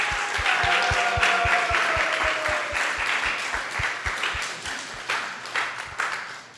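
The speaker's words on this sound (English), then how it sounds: "Please give them a big round of applause." Audience applause for panelists at a devotional panel discussion, a full, steady round of clapping that gradually thins toward the end, with a regular low thumping pulse beneath it.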